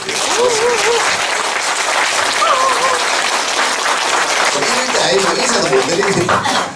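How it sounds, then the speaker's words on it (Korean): Audience at an environmental service award ceremony and general meeting breaks into loud, sustained applause, dense clapping from many hands throughout, with a few voices calling out over it. "특별 박수 한 보내주십시오"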